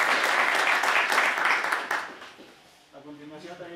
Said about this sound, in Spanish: Por favor, pido un fuerte aplauso